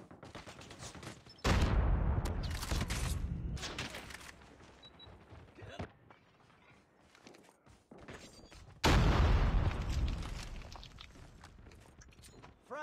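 Grenade blasts and gunfire from the mobile shooter game Call of Duty Mobile arrive as two long, loud explosive bursts with rumbling tails. A quieter stretch of scattered clicks and shots falls between them, and a voice is faintly present.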